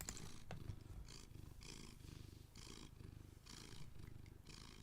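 A pet cat purrs right up against the microphone, a steady close rumbling in rhythmic pulses that repeat every half second or so, low and continuous with no talking over it.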